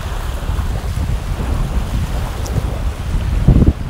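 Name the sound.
Baltic Sea waves and wind on the beach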